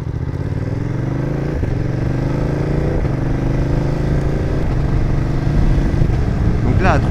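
A BMW F900R motorcycle engine revs steadily and loudly, its pitch climbing and dropping several times as the quickshifter snaps through gear changes at low revs. No voices are heard.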